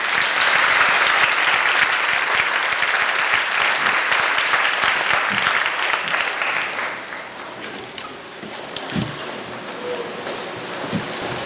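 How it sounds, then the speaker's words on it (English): Loud, dense clapping from a crowd at a 1995 Throop Elementary sixth grade graduation ceremony, steady for several seconds and then thinning out to scattered claps. "Let's give them a round of applause."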